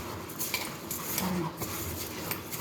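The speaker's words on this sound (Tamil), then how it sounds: "நல்லா இப்படி பிசைஞ்சு ஒரு 10-15 முறை இப்படி பிசைஞ்சு கழுவணும்." Soaked idli rice is kneaded and washed by hand in a vessel of water, giving soft close sloshing and light clinks against the container, with no voices.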